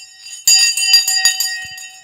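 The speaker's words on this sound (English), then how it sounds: "The bell's gone." A ringing bell sounds on a live stock market stream, sharp repeated metallic strikes with a sustained bright ring, loud and close, with faint talk underneath.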